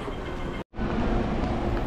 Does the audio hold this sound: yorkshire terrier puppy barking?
no